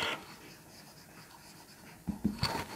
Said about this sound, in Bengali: এই যে এটা আগে লিখবো